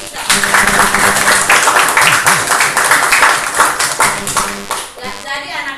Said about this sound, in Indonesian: Tepuk tangan buat Jessica.